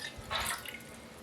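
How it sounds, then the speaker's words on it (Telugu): A glass of water poured into a pot set on a kitchen stove, a brief splashing gush lasting under half a second, close and fairly quiet, with no talking. "ఒక గ్లాస్ వాటర్ వేసుకోవాలి."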